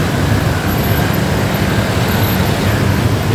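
Dense, steady road traffic roars close by, with a Budiman intercity bus running just ahead in Bandung and a continuous loud wash of engine and tyre noise throughout.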